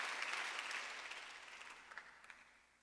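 A church congregation applauds during a Sunday worship service, a dense wash of clapping that starts loud and gradually thins and fades over about three seconds.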